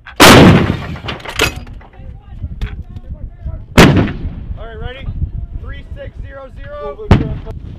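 M119 howitzer live fire with a field artillery battalion, several loud booming blasts spaced seconds apart outdoors, with voices talking between shots.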